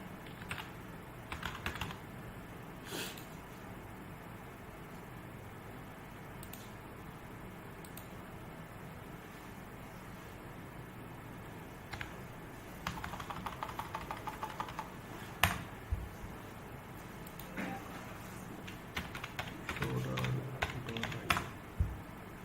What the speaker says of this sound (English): I just typing my password.